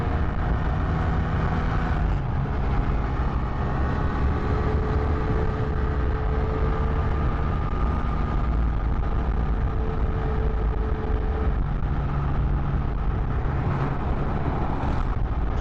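A new motorbike rides along a beach road toward Patong, its engine humming steadily beneath a continuous rush of wind and surrounding traffic, with faint tonal whines shifting as the speed changes.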